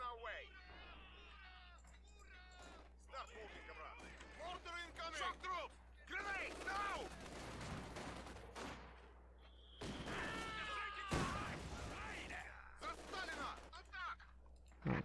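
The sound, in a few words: gunfire and mortars in Company of Heroes 2 video game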